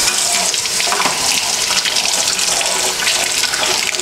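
Tap water runs steadily into a kitchen sink, a loud, continuous close-up splash and hiss with no break from start to finish.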